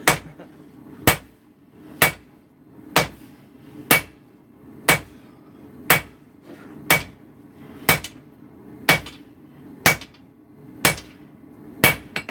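A hammer strikes wrought iron being forged, a dozen sharp ringing blows at a slow, even rhythm roughly one per second, each fading quickly before the next.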